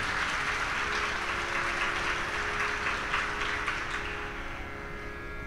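An audience at a live singing event claps steadily and loudly, a dense, unbroken wash of applause with no talk over it.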